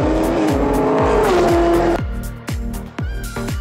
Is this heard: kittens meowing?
no